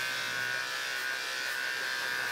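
Electric dog hair clipper running steadily on an aggressive dog, a constant close buzzing hum with no pauses throughout.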